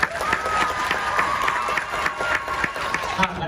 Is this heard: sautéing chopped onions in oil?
no